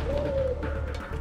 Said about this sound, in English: Pigeon target acquired.